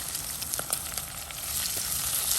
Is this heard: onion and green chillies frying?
yes